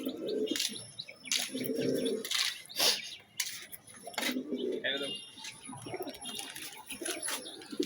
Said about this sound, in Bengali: দেখেন আমার উড়ার কবুতরগুলো বামে বসে রয়েছে।